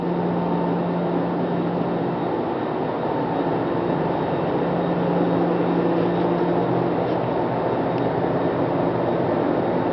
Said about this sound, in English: That's the air compressor down there.